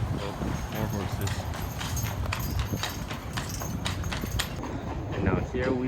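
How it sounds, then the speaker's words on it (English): Horse hooves clip-clop steadily on a hard street amid busy outdoor noise, with people talking nearby. "Oh, more horses."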